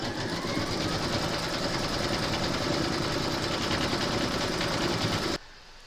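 An embroidery sewing machine stitching down applique fabric, a steady dense mechanical whir running continuously and fairly loud, then cutting off abruptly near the end, with no talking.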